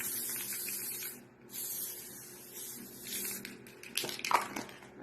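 Spray aimed at a poly school folder gives several short, sharp hissing bursts separated by brief gaps, close and fairly faint, ending in a busier rustle with no talk.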